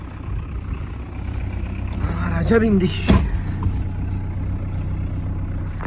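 A diesel Tofaş car fitted with an Audi engine idles steadily with a low rumble as heard from inside the cabin, while a voice speaks briefly and a door or thump sounds midway.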